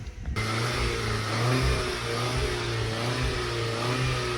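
Car engine revving during a Sea Foam fuel-system treatment outdoors on a hot day: a sudden start, then a sustained mid-range engine drone held at elevated revs with slight wavering, loud and close, no talk.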